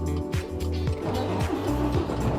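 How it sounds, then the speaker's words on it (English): A 540-horsepower truck engine starts up close and loud, with a rhythmic, pulsing cranking churn that rises into a steady running rumble. "Prepare for starting 540 horsepower truck."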